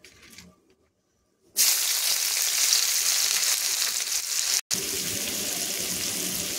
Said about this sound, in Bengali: পেঁয়াজটাকে হালকা একটু নাড়াচাড়া করে আমি ভেজে নেব